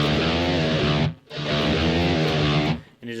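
Slow, heavily distorted electric guitar chugs an intro riff, low palm-muted notes ringing in two long sustained phrases separated by a brief gap, loud and close with no talking.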